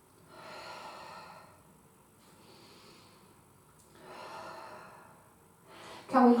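Slow, audible breaths during a Pilates exercise: two long exhales about three seconds apart, soft and close, with a brief louder sound at the very end.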